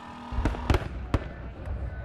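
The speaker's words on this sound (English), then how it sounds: "Organizers say that they will be shooting 400 display shells tonight for their fireworks show" Fireworks show display shells burst outdoors at night, several sharp booming explosions spaced irregularly over a couple of seconds, loud against a rumbling background.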